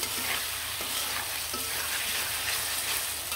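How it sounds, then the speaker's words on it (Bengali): Chicken pieces frying in a pan for noodles, a steady loud sizzle with periodic scraping stirs of a spatula, close and continuous with no talk. "দিয়ে ভালো করে মাংসটা নাড়াচাড়া দিয়ে দিলাম"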